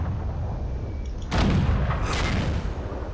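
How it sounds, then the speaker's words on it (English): A T29 tank cannon fires a single loud, sudden blast in a World of Tanks-style game, bursting out of steady background rumble and trailing into a long echoing tail. "we managed to shoot him and bounce off"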